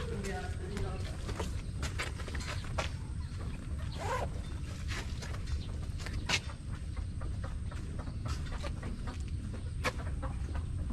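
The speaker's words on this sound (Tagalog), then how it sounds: "Ang dami palang alaga dito, manok tsaka bibi." Chickens cluck intermittently at close range over a steady outdoor background, with a voice talking now and then.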